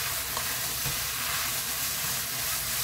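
Dried pollock strips stir-frying in a hot pan, a dense continuous sizzle and crackle with faint stirring scrapes, close and steady, no talking.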